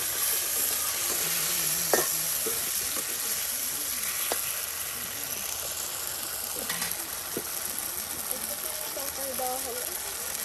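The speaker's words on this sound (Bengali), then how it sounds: "এই যে এখন ঢেঁড়স বা ভেন্ডি দিয়ে দেওয়া হলো আপনার কষানো মশলায়" Okra frying in spiced masala with a continuous sizzle under intermittent stirring scrapes and faint clinks, heard close while some soft voices murmur in the background throughout.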